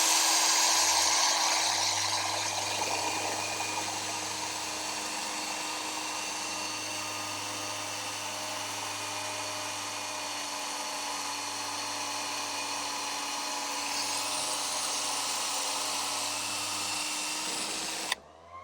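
A power drill whines steadily and loudly for a long stretch while building a deck roof, its pitch nearly constant, then stops abruptly at the end.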